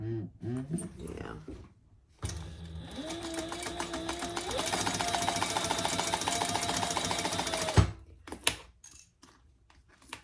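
A sewing machine stitching a leather wallet runs in one steady whirring burst of about five seconds, with brief handling noises and quiet talk before and after.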